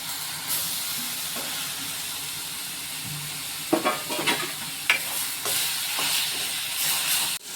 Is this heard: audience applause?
no